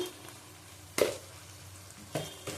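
Garlic and turmeric sizzling in a frying pan, a low steady fry with two or three sharper spatters or stirring clatters standing out, fairly quiet and close.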